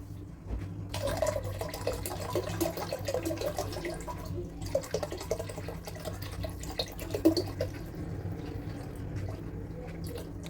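Holy Akasha Ganga spring water is poured into a container in a continuous, close trickling stream that runs steadily throughout.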